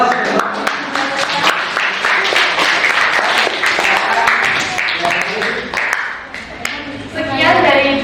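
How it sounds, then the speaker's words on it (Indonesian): Audience in a classroom presentation session clapping for group 1, a dense burst of applause lasting several seconds, close and loud, with voices mixed in. "Kelompok 1 beri aplaus."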